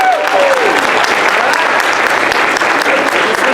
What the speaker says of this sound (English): Let's hear some applause for Amanda.